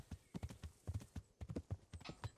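Horse hooves clip-clopping in a video game, rapid rhythmic hoofbeats of a trotting horse, close and steady, with faint voices in the background.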